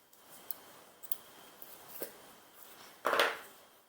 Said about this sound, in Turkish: Bir zincir çekip ipimi kesiyorum.